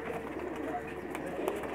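Soft cooing from pigeons on a rooftop close by over a low ambient hum, with faint background voices.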